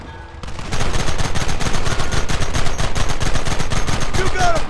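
Red Dead Redemption shootout erupting after a short quiet start into loud rapid repeated gunshots, a continuous volley of close shots with faint shouting underneath.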